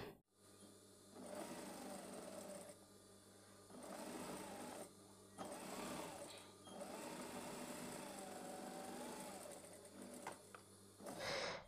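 Sewing machine running long basting stitches on fabric, steady whirring bursts separated by short pauses, close and fairly quiet.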